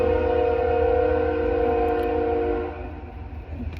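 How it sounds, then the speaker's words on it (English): A train passes with a sustained tonal horn or whistle-like drone over low rumbling, loud and steady before easing off near the end, with no talking. "Trains going by."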